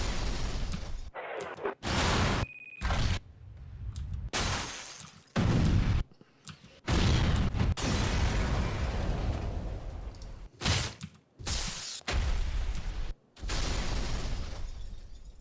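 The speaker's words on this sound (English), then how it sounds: "Let's find something that actually blows up here." Explosion sound effect samples play back one after another: loud booming blasts and shattering bursts with abrupt starts and cut-offs, separated by short gaps, close and heavy with no talk.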